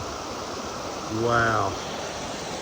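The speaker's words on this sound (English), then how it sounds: "Look at these waterfalls." Waterfalls beside Parson Branch Road through Cades Cove in the Great Smoky Mountains give off a steady, even broadband rush of falling water, with a voice briefly exclaiming over it.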